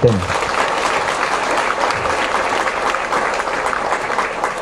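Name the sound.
audience applause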